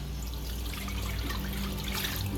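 Five cups of water pour steadily into a cooking pot, a continuous close splashing trickle with no pauses and no talking.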